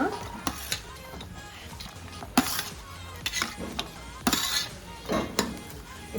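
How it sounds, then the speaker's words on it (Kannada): Chopped onions and tomatoes cooking in a pan for paneer butter masala, with a utensil clinking and scraping against the metal in sharp intermittent strokes over a faint background, while a voice talks. "ಕೆಂಪಾಗೋ ತನಕ ಹುರ್ಕೋಬೇಕು ಈರುಳ್ಳಿ ಮತ್ತು ಟೊಮೆಟೊನ"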